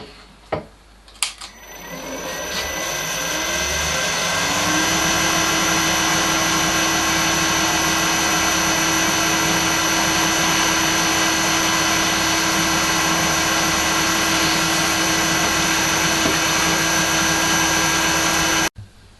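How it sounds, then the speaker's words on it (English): A drill bores and reams 6mm holes in a router sled. After a couple of sharp clicks, the motor spins up to a loud, steady whine that runs unbroken for about fourteen seconds before it cuts off. "Drilled and reamed to 6mm, I checked them with a gauge pin before turning up the two brass pegs."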